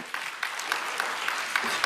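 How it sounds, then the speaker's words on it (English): A summit audience breaks into applause, an even wash of many clapping hands with sharper claps recurring at a steady beat, moderately loud and free of talk. "Round of applause for them."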